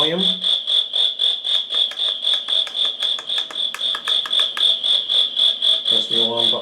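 A digital alarm clock plays its alarm as a rapid pulsing high electronic beep repeating steadily for several seconds, loud and close, with a voice talking underneath.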